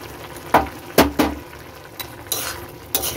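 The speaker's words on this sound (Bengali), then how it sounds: "এবার আমি বড়াগুলো দিয়ে দেবো।" Fritters dropped into a simmering bottle gourd shukto and stirred, giving several close, sharp scrapes and knocks of a spoon against the pot over a soft bubbling hiss, with no talk.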